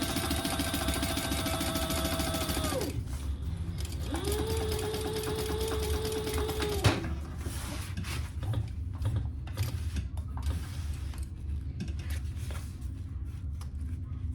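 A sewing machine top stitches a duffle bag at an eighth of an inch in two steady bursts of fast mechanical whirring, followed by a quieter stretch of handling and fabric rustle nearby.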